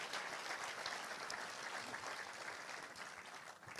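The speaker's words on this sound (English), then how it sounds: "let's have a clap for the British Council" A large audience at the FameLab International 2018 event claps steadily in thanks to the British Council, a dense continuous wash of applause heard from within the hall without any voices standing out.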